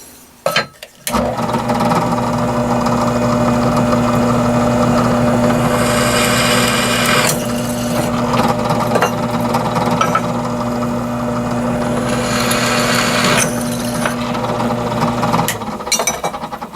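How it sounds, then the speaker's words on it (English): A drill press motor hums steadily with a strong low drone, broken by bursts of higher grinding as the bit cuts; no one speaks. "we'll move over to the drill press and drill the holes"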